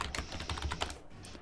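Quick, close clatter of keys on a computer keyboard, a burst of irregular taps lasting just over a second.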